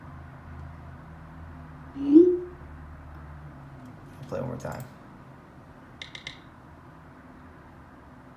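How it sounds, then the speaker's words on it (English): An iPhone text message sending sound plays once, a short rising whoosh, followed by faint clicks, quiet and alone under low background hiss, with a voice speaking softly at the end. "That is like the text and the sending from the iPhone."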